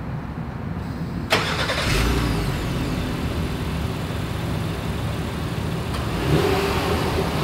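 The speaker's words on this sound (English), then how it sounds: "As always, here is that exhaust clip." Exhaust of a 2020 Honda Pilot V6 engine, idling steadily and then revving up sharply twice, loud and close, with a steady rumble between the revs.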